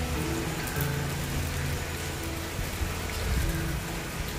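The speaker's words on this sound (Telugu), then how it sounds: "వర్షం బాగా పడుతుంది" Heavy rain falling, a steady dense hiss that holds at an even, moderate level and stays wide and diffuse with no distinct nearby drops and no voices.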